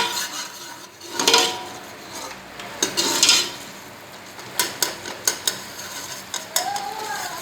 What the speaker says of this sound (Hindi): अब हम इसमें ऑयल डालेंगे और उसको 2 मिनट के लिए भूनेंगे।